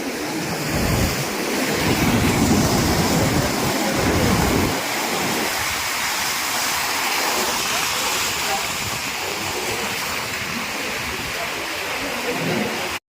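Floodwater after heavy rain pours across a state highway in Gujarat, spilling from a filled stream, a steady close rushing roar with wind buffeting the microphone.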